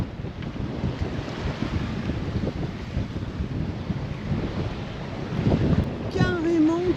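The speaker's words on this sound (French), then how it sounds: "Comme quoi les vagues elles montent haut." Wind and rough sea at sea aboard a catamaran, a loud, steady wash of wind noise and churning waves throughout, swelling stronger near the end with faint squeaks over it.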